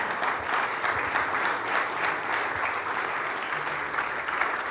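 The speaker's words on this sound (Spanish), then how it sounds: "Démosle un aplauso al Señor." A church congregation applauds steadily during a Spanish-language sermon, a dense and continuous wash of many hands at even loudness, heard alone without talk.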